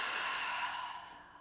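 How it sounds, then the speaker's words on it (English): A single long, deep exhalation during a yoga breathing exercise, close and soft, airy and fading gradually toward the end. "We'll take 3 deep breaths, breathing in through the nose, filling up the lungs, and then a long, deep breath out."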